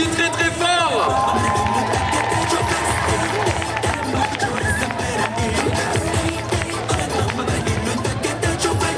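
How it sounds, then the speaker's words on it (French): A large crowd at a cosplay parade at the Otaku Festival in Châlons cheering and clapping loudly and continuously, with voices shouting over the din throughout. "On les applaudit très très fort."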